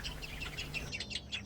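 Budgerigar chicks in a nest box give a steady run of high, thin chirps and peeps, fairly close and continuous over a faint background hiss.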